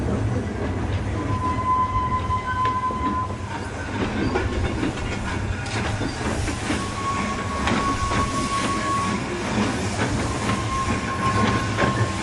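A narrow gauge train on the Sittingbourne and Kemsley Light Railway crossing Church Marshes runs steadily, with continuous rumble and clickety-clack from the wheels and occasional thin wheel squeals, heard alone without voices.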